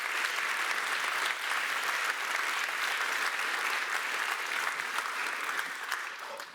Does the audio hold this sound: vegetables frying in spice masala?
no